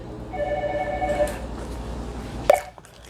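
A telephone rings with a short electronic ringtone of repeating tones for about a second, moderately loud indoors, followed by a faint bump and a sharp click as it is picked up.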